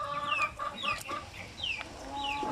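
Native chicks, some of them sick, peep in a run of short, high, falling chirps that overlap and repeat steadily throughout, close by with no voices.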